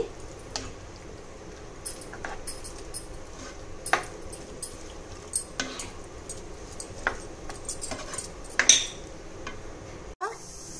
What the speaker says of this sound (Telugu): మనం బాయిల్ చేసి పెట్టుకున్న బేబీ కార్న్, మనం కట్ చేసి పెట్టుకున్న టమాటా, జుక్నీ ఇవన్నీ వేసి బాగా మిక్స్ చేసుకోవాలి